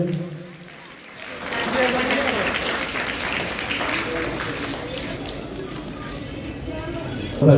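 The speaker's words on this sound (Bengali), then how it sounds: "প্লিজ জোরে করতালি দিবেন" A crowd applauds loudly and steadily at an annual cultural evening of a Bengali dance college, the clapping sustained for several seconds with voices mixed in.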